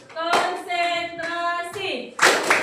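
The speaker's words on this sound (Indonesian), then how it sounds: "yuk tepuk konsentrasi dulu." A middle-school science class in Indonesia does a rhythmic concentration clapping routine, with short bursts of hand claps between stretches of children's voices chanting together.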